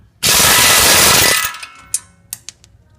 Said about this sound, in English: now we're going to use our 19 millimeter socket to take that tie rod end bolt off